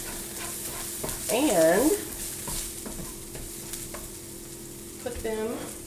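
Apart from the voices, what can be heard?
vegetables being sautéed and stirred in pan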